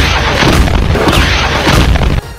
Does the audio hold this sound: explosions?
yes